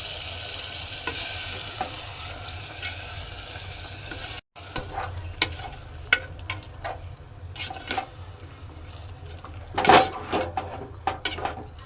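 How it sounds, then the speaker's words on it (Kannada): Ground masala paste being stirred into biryani in a pot: a low frying sizzle with repeated scraping, clinking spoon-on-metal strokes, a brief cut partway through and a louder burst of scraping near the end. "ಚೆನ್ನಾಗಿ ಪೂರ್ತಿ ಕೆಂಪಗಾಗೋ ಥರ ಒಂದು ಮಿಕ್ಸ್ ಮಾಡಬೇಕು ರುಬ್ಬಿರೋ ಮಸಾಲೆ ಮಿಕ್ಸ್ ಮಾಡಿ"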